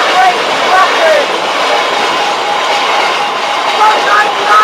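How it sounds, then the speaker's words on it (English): A freight train rolls through a railway station at Hykeham, a steady broad rumble and rush close by that holds throughout, with faint squeals over it. "Another freight train is approaching!"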